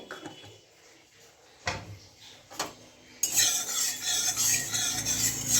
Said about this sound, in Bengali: তেলটা ভালো করে লাগিয়ে নেবো গোটা কড়াটা